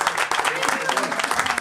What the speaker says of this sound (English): can we get a big round of applause for these speakers?